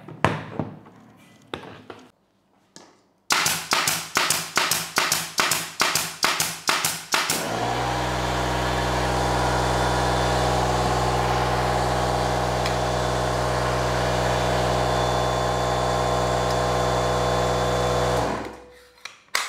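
An INGCO CACLI2003 battery-powered air compressor starts with a rapid series of rhythmic thumping pulses, then settles into a loud, steady, droning hum for about ten seconds before cutting off.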